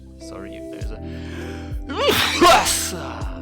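One sharp, close sneeze bursts out during a conversation, with speech heard just before it and a short gasp leading in.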